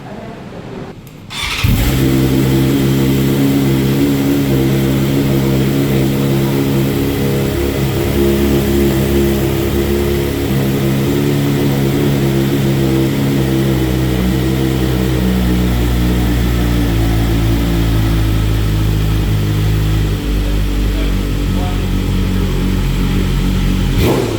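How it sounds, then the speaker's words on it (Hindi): A 2025 BMW S1000RR with an Akrapovic full titanium exhaust system fires up after a short quiet moment, then settles into a loud, close, steady idle and low rumble that runs alone for over twenty seconds. "let's just hear the brutal sound of Akrapovic full system."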